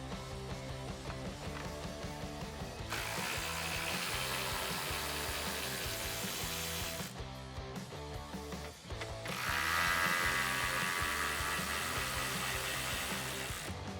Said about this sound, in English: We're also gonna have to remove these two 10mm bolts on top of the headlight.